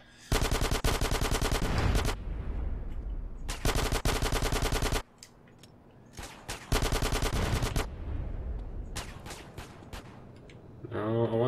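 Rapid automatic gunfire from Grand Theft Auto: San Andreas rattles in several long bursts with short pauses between, loud and close, with a few scattered single shots near the end.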